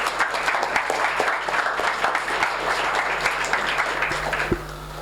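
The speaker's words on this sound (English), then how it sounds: "applause for Perry." An audience at a pony fan convention panel claps steadily for several seconds, a dense wash of many hands close by that thins out and fades near the end, with no talk over it.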